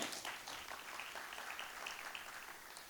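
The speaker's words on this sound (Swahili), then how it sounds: "Makofi kwao." A crowd applauds in a meeting hall at a SACCO annual general meeting, steady faint clapping that carries on evenly for a few seconds without other sound on top.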